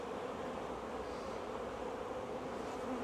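Honey bees in an open hive hum with a dense, continuous buzz, a close and even drone that holds steady throughout with no voices.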